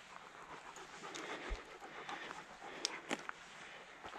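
An off-leash dog pants softly and steadily on a mountain forest hike, a quiet, continuous rhythm of quick breaths with faint scuffs around it.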